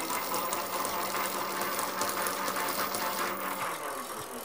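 A MOKWHEEL Tor Plus 750W all-terrain e-bike hub motor whirs at the lowest pedal-assist level, a close, continuous buzzing hum with a light mechanical rattle from the bike.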